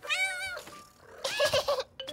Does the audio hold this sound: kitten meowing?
yes